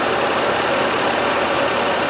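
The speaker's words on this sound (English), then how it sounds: "So you gotta run the engine for about 2 minutes, let the engine warm up." A car engine idles steadily while warming up during a test for a blown head gasket, a continuous close, even rumble with no talking.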